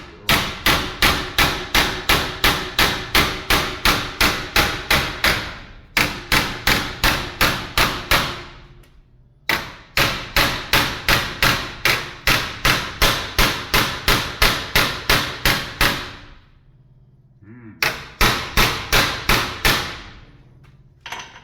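Rapid, loud hammer blows on metal come in fast regular bursts of a dozen or more strikes, broken by short pauses, while work goes on on a Dodge 10; no talk is heard over the hammering.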